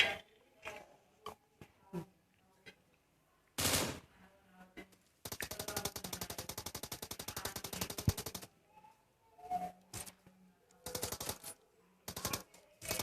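Gunfire in a Korean-version battle royale game featuring an AWM, with sharp single shots scattered throughout and a long sustained automatic burst in the middle, loud and close.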